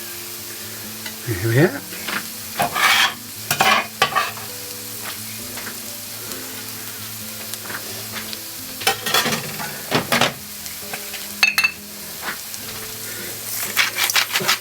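Chopped garlic sizzles in a hot pan, a close, even frying hiss punctuated by repeated scraping stirs; a voice speaks briefly.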